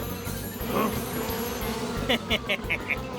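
Cartoon bees swarm and attack in a Tamil animated comedy, a buzzing drone overlaid with a string of five quick zapping stings near the end, with voices speaking in the background.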